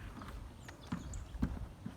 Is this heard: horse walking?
yes